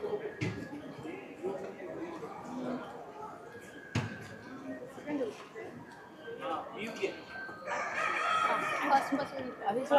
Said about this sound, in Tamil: கோழி சேவலெல்லாம் இங்கே இருக்குது.